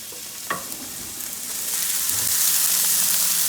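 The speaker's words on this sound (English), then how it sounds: "Mix all that around so all the oil is getting all of that." Two carrots stirred in hot oil in a pan: a sharp clank of the utensil opens, then a soft sizzle builds steadily louder and hissier toward the end.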